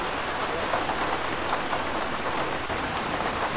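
Heavy in-game rain in Arma 3 hisses steadily and loudly, an unbroken patter of drops with no voices over it.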